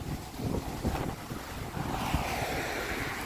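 Strong gusty wind buffets the microphone outdoors, a constant rushing roar with low thumps and no voices.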